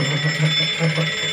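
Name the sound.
alarm clock ringing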